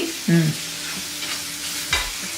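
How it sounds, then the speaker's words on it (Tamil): Onions frying in a pan and being stirred, a steady loud sizzle with a couple of brief scraping strokes of the spatula, close up and with no voices. "இப்போ வெங்காயம் செவந்துருச்சு."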